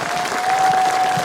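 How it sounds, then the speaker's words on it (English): Sustained applause from an audience at a North West 200 road-racing "Meet The Riders" event in Coleraine, dense steady clapping filling the short moment with a faint tone running beneath. "Give him a round of applause"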